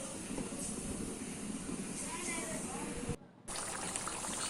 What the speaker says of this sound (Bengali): তো একটু উপর থেকে আমি সর্ষে তেল দিলাম।